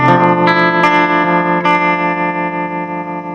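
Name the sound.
clean electric guitar through Vox amp model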